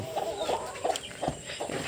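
Chickens cluck close by in a farmyard, a series of short, repeated clucks in an uneven rhythm over faint background noise.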